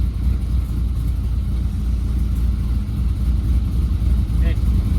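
A Chevrolet C10 truck engine idles cold at about 700–800 RPM, a steady, close, low rumble that holds even throughout.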